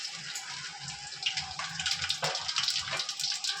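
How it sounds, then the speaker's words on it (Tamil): Masala spices sizzle in hot oil in a pan while a chicken dum biryani is cooked, making a steady, close crackling hiss that grows busier and louder toward the end. "நல்லா பொரியுது."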